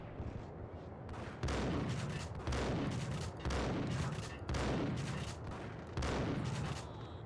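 Uzi gunfire in the video game Max Payne, heard as loud, dense bursts of automatic fire repeating roughly every second in steady volleys, with no talk over it.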